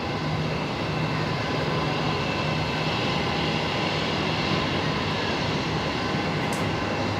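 A QantasLink Embraer jet landing on runway 01 left at Brisbane Airport, a steady broad engine roar that holds constant and loud throughout with no talking.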